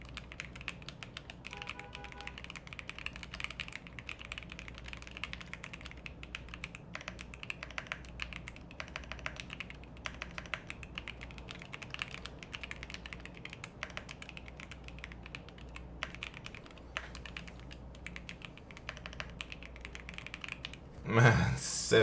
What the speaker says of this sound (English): This is the hardest passage I've ever typed in my life.